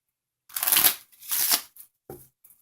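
A deck of playing cards shuffled up close during a card trick, two loud riffling bursts followed by a short softer flick, with no talking.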